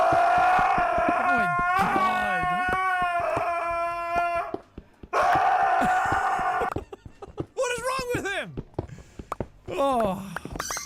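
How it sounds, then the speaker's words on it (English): Huskies scream and howl loudly on a played-back video, with long, rising and falling wails, a brief pause midway, then a series of shorter yelping whines. "we gotta look at more screaming huskies"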